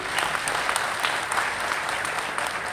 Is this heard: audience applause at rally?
yes